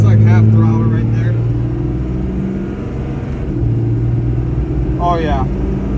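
A lifted truck with a Cummins diesel engine revving at half throttle, a loud heavy low drone that rises then eases and holds, heard from close by with voices talking over it.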